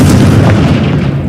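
A Confringo blast spell exploding in the video game Hogwarts Legacy: a loud, deep, rumbling boom that fills the whole moment and trails off slightly, with no voice over it.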